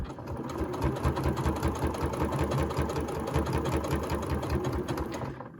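A sewing machine fitted with a quilt binder attachment stitches binding onto a quilt, running as a fast, steady, close mechanical whir with an even rhythmic needle chatter that slows only at the very end.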